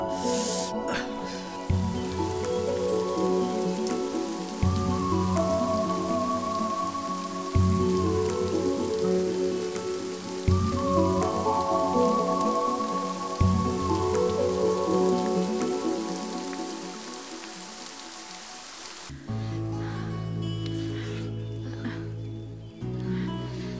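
Steady rain patters on a surface, a constant dense drumming that continues throughout and changes texture slightly near the end.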